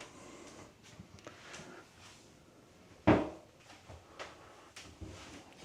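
A storage door aboard a 2020 Fountaine Pajot Saona 47 catamaran opens with a single solid wooden clunk midway, against a quiet cabin background.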